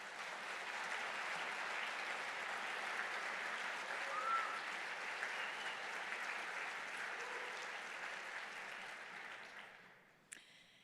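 Audience at an evening lecture series giving the musician another round of applause, a dense, even clapping crowd sound that holds steady for about nine seconds, then fades out quickly.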